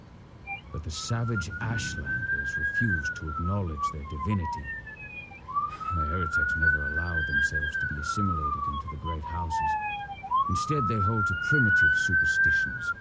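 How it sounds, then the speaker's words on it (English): A wailing siren rises and falls repeatedly in long sweeps while someone talks steadily over it. "Terribly sorry about the siren."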